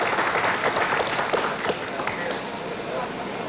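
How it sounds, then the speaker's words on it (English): A large crowd applauds and cheers continuously as the President signals for applause after the astronauts' return, the clapping a dense steady roar that stays loud throughout with a mix of voices. "The President signaling for applause from the crowd."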